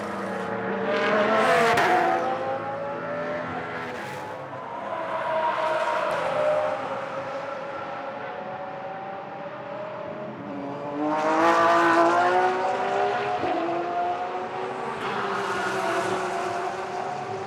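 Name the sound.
Porsche race car passing on the back straight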